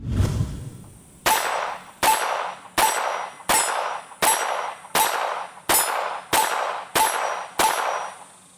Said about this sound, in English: just shoot that steel target and try to put every round in the center of that steel target